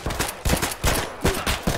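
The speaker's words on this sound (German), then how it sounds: "auf mich wird geschossen" Rapid gunfire aimed at a player in Escape from Tarkov, four or five loud sharp shots in quick succession, close and alone with no talk.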